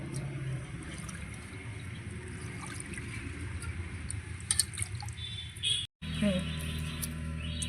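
Muddy fish is washed over and over in water, with continuous sloshing, dripping and splashing close by, a brief cutoff near the end, then more swishing.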